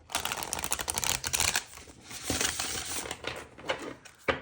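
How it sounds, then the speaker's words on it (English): Tarot cards are shuffled right at the mic, a dense, rapid clatter of papery flicks and slaps that comes in uneven waves for about four seconds, with no talking. "I just feel like shuffling one more time."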